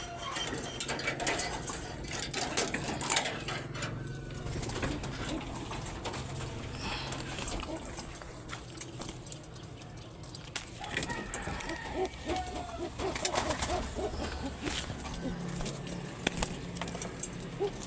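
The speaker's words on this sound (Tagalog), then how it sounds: "yan na naman yung patukong kalapati" Pigeons coo in soft, repeated low calls, close and fairly quiet, over a rustling, shuffling background with brief flutters of wings.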